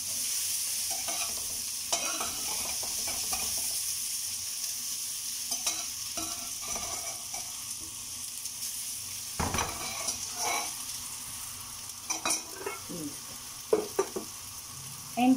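Potatoes sauté in olive oil, butter and garlic with a steady, even sizzle, broken by scattered scrapes and clinks of a utensil stirring them around the pan.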